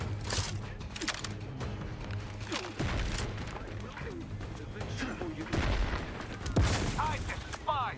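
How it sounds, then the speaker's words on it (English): Dense, chaotic gunfire and game combat in The Outer Worlds 2, with repeated shotgun blasts and mechanical clatter layered over a constant background hum, loud and close throughout, with a voice talking underneath. "I feel like I've been slightly lied to about the stealthiness of this shotgun."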